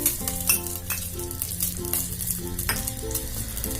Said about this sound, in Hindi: घी के गर्म होने पर हम इसमें डालेंगे किसा हुआ नारियल